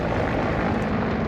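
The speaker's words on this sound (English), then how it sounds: "Attack helicopter, yeah?" An attack helicopter over a cornfield by a canal in Afghanistan, a loud, steady engine and rotor roar that holds unbroken and close overhead the whole time with no voices.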